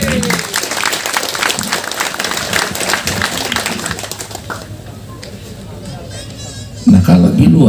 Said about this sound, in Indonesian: boleh ditambah lagi tepuk tangannya